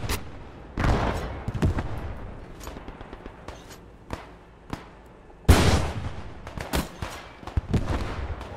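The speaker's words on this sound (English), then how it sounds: "See the positions that are being shelled." Artillery shelling and gunfire in Squad 44 during a 1940 armoured French assault on the Maginot Line: scattered sharp shots and booming impacts, some distant and some closer, with a heavy blast partway through and irregular crackling between them.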